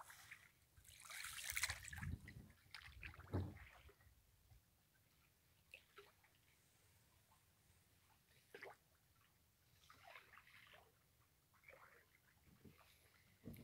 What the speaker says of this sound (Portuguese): Arrastando a escota na água.